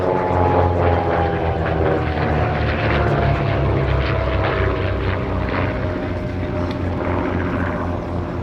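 A vintage propeller aeroplane flies past at Little Gransden Airshow 2019, its engine drone loud and steady with a slowly falling pitch as it passes.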